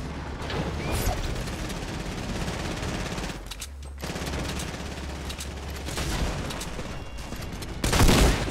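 Rapid SMG fire in Fortnite crackles in sustained bursts across the whole stretch, with a short lull midway and a louder burst near the end, steady and close with no talk.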